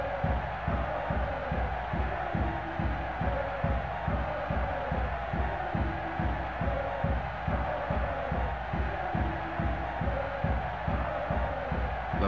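Stadium crowd in the 2001 PS2 soccer game Soccer America: International Cup, a steady dense roar of many voices with a rhythmic pulsing chant running throughout, loud and continuous before kickoff.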